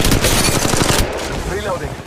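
An Apex Legends Mobile automatic weapon fires a loud, fast burst of close shots for about a second, then cuts off, leaving quieter game sounds and faint voice chatter.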